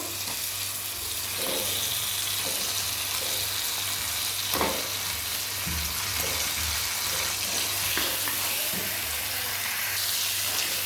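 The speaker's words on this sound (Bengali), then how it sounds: "এবার দিয়ে দেবো এই খাসির মাংসটা এখানে পাঁচশো গ্রামের মতো মাংস আছে মাংসটা দিয়ে দেবো" About half a kilo of goat meat goes into hot spiced oil and fries with a loud, continuous sizzle, punctuated by scraping stirs and occasional clatters, close and steady throughout.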